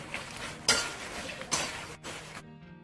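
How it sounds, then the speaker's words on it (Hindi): Fox nuts (makhana) roast in desi ghee in a pan, giving a faint sizzle with a few sharp scraping and clinking stirs of a utensil against the pan, then a sudden drop to quiet. "हम इसमें मखाने डाल देंगे और इसको रोस्ट करेंगे।"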